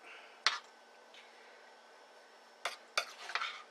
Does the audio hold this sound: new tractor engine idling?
no